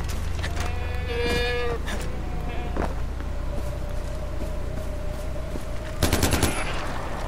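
Bursts of rapid gunfire in Far Cry 4 crackle early on, then a louder, sharper volley erupts near the end, with tonal game sounds humming between the shots.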